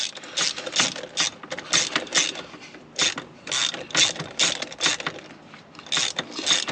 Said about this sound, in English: Let's screw this one down.